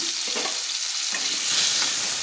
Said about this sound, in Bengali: লাল লাল করে আলুগুলোকে ভেজে নেবো তার জন্য আমি নেড়ে নিচ্ছি